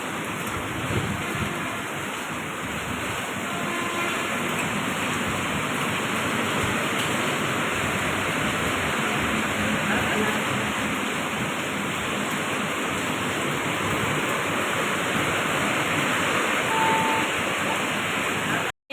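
Steady rain falls during a monsoon trip, a dense, even hiss that fills the whole stretch without pause and sounds close and loud, with no clear voices above it.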